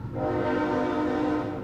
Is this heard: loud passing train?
yes